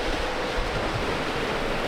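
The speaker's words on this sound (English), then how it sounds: "These waves are monstrous." Huge following seas at open sea rush in a steady, loud, wide wash of breaking water and wind noise around a sailing boat on an ocean passage, with no voices.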